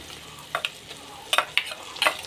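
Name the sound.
ground spice paste frying in mustard oil in a wok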